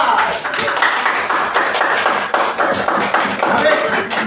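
Dense, steady clapping from a class group, continuous and fairly loud throughout, with brief murmurs of voices mixed in.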